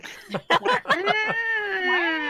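Several voices imitate alley cats caterwauling during a tabletop role-playing session, a burst of overlapping yowls and meows followed by one long, wavering drawn-out cat wail, close and loud.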